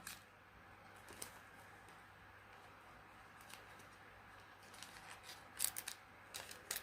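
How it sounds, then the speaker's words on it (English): Scissors snip excess plastic off a Blu-ray case in sparse, faint clicks and crunches against a quiet, humming background. The cuts cluster more tightly toward the end. "we can remove the excess of plastic on top by just cutting the side part"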